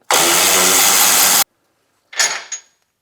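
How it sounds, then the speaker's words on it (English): An electric ratchet spins out a wheel hub bolt on a Chevrolet Colorado or GMC Canyon, giving a loud, steady whir of just over a second that stops abruptly, then a brief fainter whir and a tick after a pause. "Now that it's loose, we'll just spin it out with the electric ratchet."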